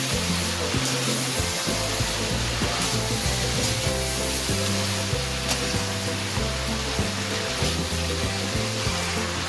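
Aloo gobi (potato and cauliflower) frying in a pan on a gas stove, a steady loud sizzle with stirring scrapes running throughout, heard alone.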